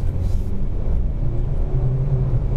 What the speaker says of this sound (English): now I will upshift.